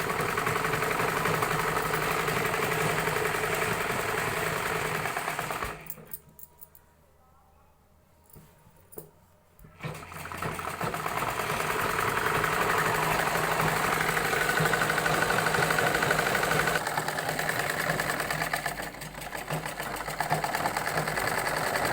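A sewing machine stitches a salwar in steady, close runs, whirring loudly before and after a short pause of near silence in the middle.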